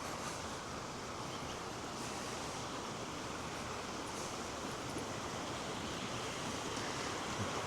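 Steady broadband rushing of a river flowing beside a campground in Pagosa Springs, Colorado, loud and close, continuous without pauses or voices.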